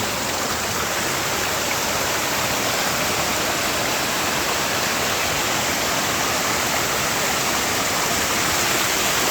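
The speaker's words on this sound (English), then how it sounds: "this is the waterfall" Waterfall pouring down a hillside, a steady, loud, broadband rush of falling water that stays constant throughout without a break.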